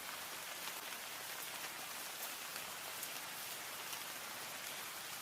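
Rain falls steadily, a dense even hiss of drops on a surface that stays constant throughout with no voices.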